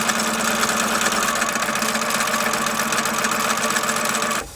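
A sewing machine stitches a long quilt fabric strip with a steady, close, buzzing hum that runs without pause before cutting off at the end.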